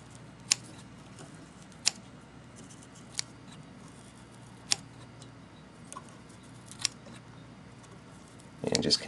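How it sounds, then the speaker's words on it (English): Quiet, sharp scissor snips trimming deer hair on a tied fishing fly, about six of them spaced a second or so apart, with soft rustling at the very end. "I'm just going to go around and just start snipping on this"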